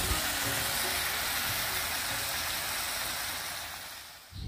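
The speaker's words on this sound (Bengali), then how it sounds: "ভালো করে একদম ভেজে তারপরে আমি দুধকুচিটা দিয়ে দেবো।" Dried fish (shutki) seasoned with salt and turmeric fries in a pan with a dense, hissing sizzle that holds steady and then fades slightly near the end.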